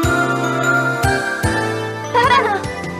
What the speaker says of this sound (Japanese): なに今の音、鈴の音。